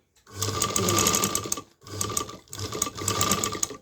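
A sewing machine stitches fabric in three close, loud bursts of rapid mechanical whirring and needle clatter, broken by short pauses between runs, with no voices over it.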